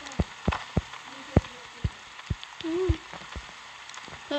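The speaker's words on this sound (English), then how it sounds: "It's raining crazy." Rain falls in the Roblox Brookhaven video game as a soft, steady patter, punctuated by scattered louder taps and clicks, with a faint voice briefly murmuring.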